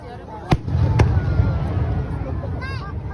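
Fireworks burst at a Japanese display: two sharp loud bangs half a second apart, then a rumbling crackle of further explosions amid crowd chatter, with a voice speaking near the end.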